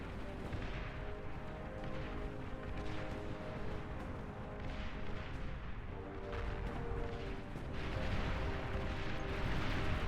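Rockets and artillery fire in a Beyond All Reason strategy battle make a continuous, moderately quiet stream of rumbling booms and crackling volleys that builds slightly toward the end.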